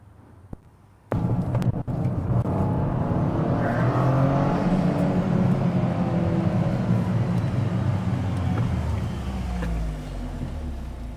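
A Toyota GR Corolla with a turbo engine and MST Performance intake starts with a click and then runs and accelerates steadily, a loud rumbling drone that rises and shifts as the car drives.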